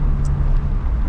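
A 2007 Mitsubishi Eclipse SE is underway, heard from inside the cabin as a steady, fairly loud low engine and road rumble in a brief continuous stretch.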